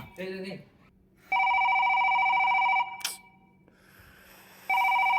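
A telephone rings in long steady electronic bursts, a pause between them, the repeated incoming call loud and close; a voice speaks briefly at the start.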